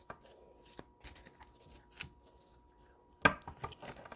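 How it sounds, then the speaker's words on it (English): Tarot cards are shuffled by hand in a quiet room: soft scattered riffles and taps, then one sharper snap of cards near the end, all close and fairly faint. "I was trying to avoid having to shuffle these cards while I was recording"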